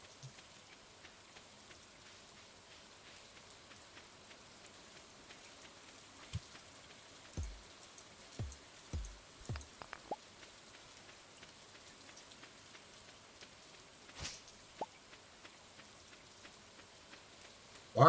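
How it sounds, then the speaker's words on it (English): Rain falls in the Stardew Valley video game as a soft, steady patter throughout, with a handful of sharper, louder drop-like taps clustered in the middle; no one speaks. "Notice it's raining here."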